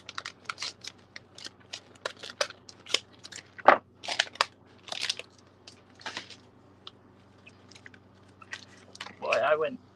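Scissors snip through paper in a series of short, close, crisp cuts in an uneven rhythm, with a louder rustle of paper near the end.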